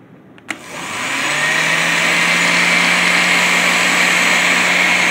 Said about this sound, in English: It's just a regular Oster blender.